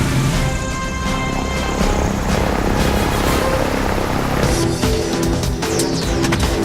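A small aircraft, likely a helicopter, lands on the sand at Fraser Island, its loud engine and rotor drone steady and close throughout with buffeting noise.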